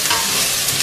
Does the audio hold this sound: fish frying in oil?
yes